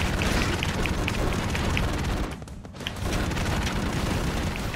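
Missile blasts and heavy gunfire in the Broforce video game, a loud continuous barrage of booming explosions that dips briefly midway before surging back at full intensity.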